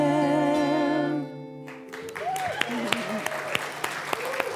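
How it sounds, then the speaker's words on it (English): Church audience clapping in a rhythmic, scattered pattern right after a sustained sung or organ chord fades out, individual claps spaced roughly evenly under faint background voices. "Thanks for supporting us with your claps."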